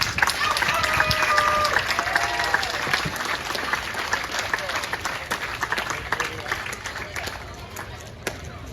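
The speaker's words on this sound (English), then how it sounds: "Let's give John a nice round of applause" A village crowd honoring grand marshals breaks into sustained applause, steady and moderately loud, with some voices mixed in that slowly ease toward the end.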